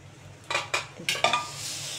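A metal lid placed on a cooking pot of pumpkin curry, several short clattering clinks in quick succession, close and fairly crisp in a quiet kitchen.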